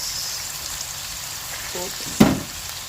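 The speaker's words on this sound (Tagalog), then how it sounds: "Gisa-gisa lang po natin." Food sautéing in a pan with fish sauce being added, a steady close sizzle with a short sharp clatter of utensil against pan near the end.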